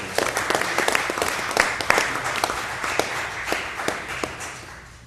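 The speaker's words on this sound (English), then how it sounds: "let's give Bill a round of applause" Audience applause for Bill at a New Bern Board of Aldermen meeting, a sustained patter of many hands clapping at moderate loudness that gradually fades out.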